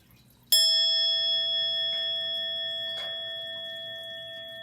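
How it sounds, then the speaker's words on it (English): A single bell is struck once and left to ring, its clear metallic tone sustaining and slowly fading over several seconds, close and alone with no talking. "And I'll ring the bell back in."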